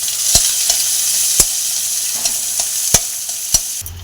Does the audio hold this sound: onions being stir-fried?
yes